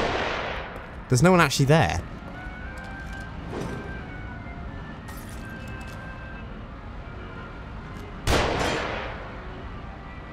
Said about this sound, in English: Who's trying to shoot me?